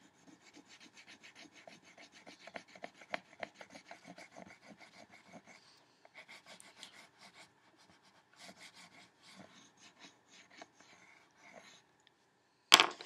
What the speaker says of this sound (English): I'm going to color a nice blue line.